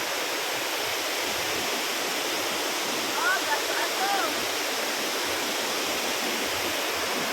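Iligan's Magic Falls, an enchanted-looking waterfall, roars as a constant broadband rush of falling water, close and loud from start to finish, with a brief faint voice-like trace partway through.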